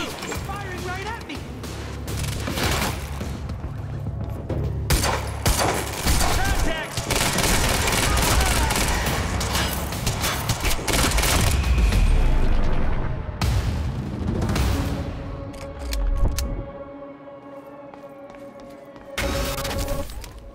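Heavy gunfire and booming impacts in the video game Quantum Break, loud bursts and explosions crowding the first half, then a quieter stretch of mechanical sounds as shouting voices come and go.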